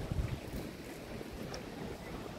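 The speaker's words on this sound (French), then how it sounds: "Il y a du vent hein, ce matin." Morning wind by the sea in Bali buffets the microphone with a low, steady rumble and a faint hiss, quiet and continuous throughout.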